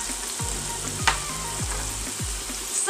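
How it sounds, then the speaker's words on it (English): Beef sizzles steadily as it sears in a pot for pot roast, a loud continuous fry with several low thumps and scrapes of stirring or turning, no voices. "So just sear it until it's brown"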